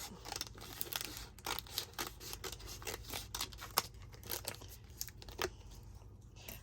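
Scissors cut through fabric from an old 1980s home-sewn outfit, a run of repeated close snips and crisp crunching cuts in an uneven rhythm, quiet and without talk.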